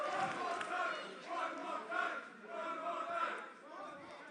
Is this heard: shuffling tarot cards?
no